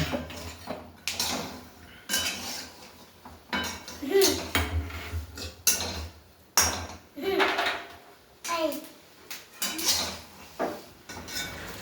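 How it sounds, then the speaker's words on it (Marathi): Peanuts roasting in a pan are stirred with a metal utensil, giving irregular scraping and clinking strikes against the pan along with the rattle of the nuts, close and fairly quiet. "आपले शेंगदाणे छानसे भाजत आहेत आणि असं चांगल्या पद्धतीने हलवत राहायचं शेंगदाण्याला."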